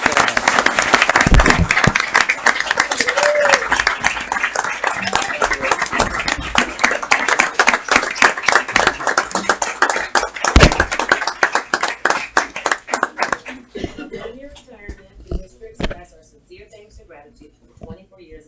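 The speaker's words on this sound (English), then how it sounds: "Would you all join me in applause for his years of" Applause at a city commission meeting for a retiring City Hall employee: dense clapping from a seated crowd that thins out toward the end, with a few voices mixed in.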